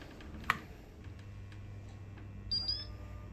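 A home electronic bidet sounds a short run of high beeps as a self-diagnosis error triggers, its hot-water heater wire disconnected; a sharp click comes first, then faint ticks over a low hum.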